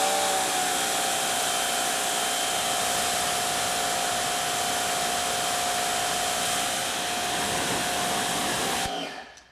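A Wholesun 3000 psi electric pressure washer sprays through a 40 degree nozzle with a loud, steady hiss and motor whine that stops abruptly at the end.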